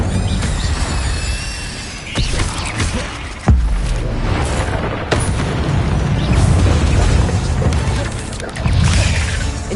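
Spell effects cast in Hogwarts Legacy, including the Incendio fire spell: a dense, loud stretch of whooshing bursts, crackles and booming impacts layered over a busy game soundtrack.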